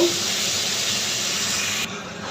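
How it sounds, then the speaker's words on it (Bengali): Water poured onto frying spice paste of garlic, onion paste and tomato with potatoes in a pan sends up a loud, close, steady steaming hiss that eases off abruptly near the end. "এই যে মশলা কষে সামান্য একটু জল দিয়ে দিয়েছি"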